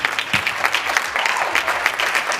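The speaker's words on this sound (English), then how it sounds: "So can you please give her a warm round of applause for Phumelele Ndlazi." An audience applauds a guest speaker at a university event, a steady dense patter of many hands clapping close and fairly loud throughout, with no voices over it.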